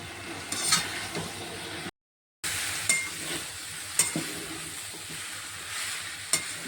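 Spices, potatoes and boiled jackfruit fry in a pan for an Indian jackfruit-shrimp dish, giving a steady sizzle. A few sharp scrapes and clinks of a spoon stir through it, with one brief gap of silence.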